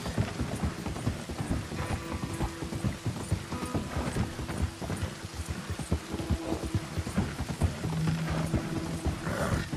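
Horse hooves clip-clopping in Red Dead Redemption 2, a steady rapid trotting rhythm of close, fairly loud hoofbeats over a constant noisy wash like rain, with faint creaking tack and no talk.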